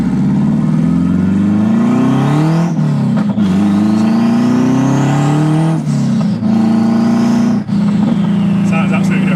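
Turbocharged 532bhp Honda Civic fitted with a Borg-Warner S257 SXE turbo accelerating hard on the road, its loud engine note climbing through several gears with brief dips at each shift, heard from inside the car.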